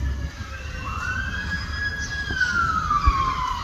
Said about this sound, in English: Here go the ambulance.